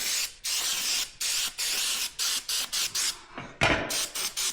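Short bursts of cleaner sprayed from a trigger bottle onto a wheel part to clear off metal shavings, about a dozen quick hissing squirts in an uneven rhythm, close and fairly loud with no talk.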